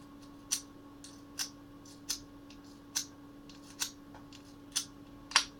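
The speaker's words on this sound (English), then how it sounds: "zipping is the fastest way into a lock" A lock being picked by zipping the pins, a series of seven sharp, faint metallic clicks at roughly even intervals over a low steady hum.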